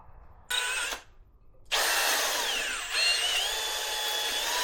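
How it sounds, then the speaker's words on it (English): A power drill bores into a bolt on a car body during a body swap: a short whirring burst, a pause, then a longer sustained spin whose pitch dips and climbs, close and fairly loud. "let's drill down a little bit more"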